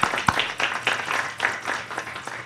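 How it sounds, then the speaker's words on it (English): A brief round of applause at a lecture, a scattering of individual claps in an uneven rhythm from a small audience, close and moderately loud with no talking. "would like to give them a round of applause."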